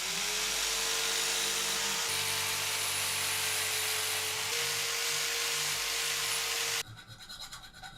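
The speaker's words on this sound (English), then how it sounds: "I'm gonna use the jigsaw with a metal blade." A jigsaw fitted with a metal blade whines steadily while cutting, a close, sustained buzzing tone that shifts pitch slightly and then cuts off, leaving quieter rattling.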